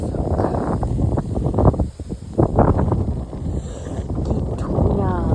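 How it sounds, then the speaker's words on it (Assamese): Strong wind blows outdoors at a hillside resort, gusting and buffeting the microphone in a loud, continuous rumble while a voice speaks over it. "ইমানেই বতাহ মাৰিছে চাওক"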